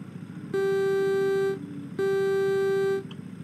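A car horn in American Truck Simulator gives two long, steady, loud honks, each about a second long, separated by a short pause over a low engine hum.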